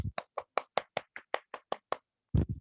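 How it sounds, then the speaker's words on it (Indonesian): Hand clapping at home during an online class, about eleven sharp, evenly spaced claps in a quick steady rhythm, fairly faint and close, followed by a brief burst of noise. "tepuk tangan di rumah masing-masing"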